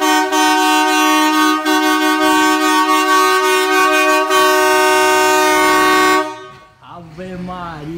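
A loud, sustained dual-tone marine air horn fitted to a Peugeot 206 blares steadily for about six seconds, then cuts off as an excited voice begins speaking.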